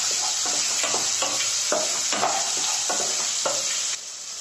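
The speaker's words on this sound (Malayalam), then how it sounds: "സവാള നന്നായിട്ട് ഒന്ന് വഴറ്റിയെടുക്കുക" Onion sautéing in a pan, a bright continuous sizzle marked by a rhythmic series of spatula scrapes and stirs, close and loud with no voices.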